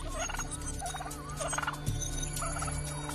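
A talégalo, a megapode bird, calls in short gobbling, clucking bursts, three or four in a row with brief gaps, set against a steady background hum.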